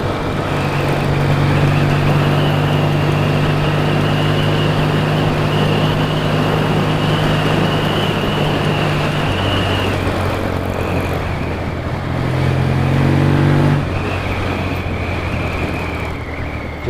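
A classic British motorcycle engine roars out in the English countryside. Its loud, sustained drone holds steady, then its pitch drops and climbs again as the revs change, and no one speaks.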